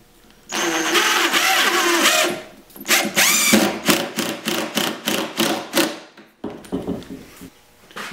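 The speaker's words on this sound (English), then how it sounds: "clamp the other side, and then I can screw it down" A power driver drives screws in short repeated bursts while a wooden snowboard box is clamped and fastened down, loud and close, with one longer whirring run first and then a series of quick pulses.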